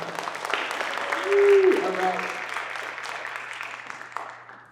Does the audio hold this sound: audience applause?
yes